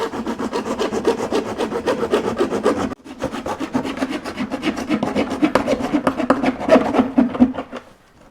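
The wooden leg of a broken chair is sawn with rapid, rhythmic back-and-forth strokes, loud and close. There is a brief pause near the start before the steady rasping resumes.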